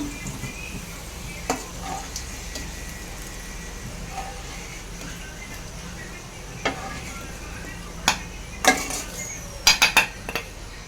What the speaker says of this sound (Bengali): পেঁয়াজ বেরেস্তা আমার হয়ে গেছে, এবার আমি এগুলোকে তুলে নিচ্ছি।